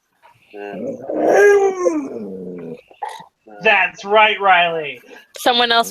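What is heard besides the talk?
dog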